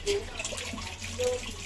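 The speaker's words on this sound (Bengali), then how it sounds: "একদম ডলে ডলে ধুয়ে দিচ্ছি" Sweet potatoes being scrubbed by hand under running tap water in a home kitchen, a steady close hiss of flowing water with brief rubbing swells.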